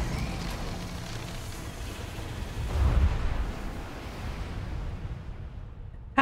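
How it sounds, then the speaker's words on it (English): A grenade goes off in Resident Evil 4 Remake, a single muffled boom swelling out of a dense low rumble of game noise and then fading, with no voices over it. "Grenade."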